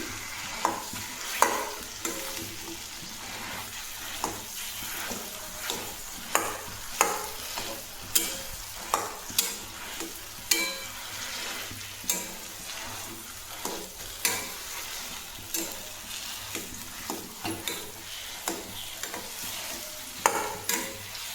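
Spiced aloo paratha potato filling frying in a pan, scraped and turned with a spoon in a steady series of sharp clacks over a constant low sizzle, close and continuous with no talking.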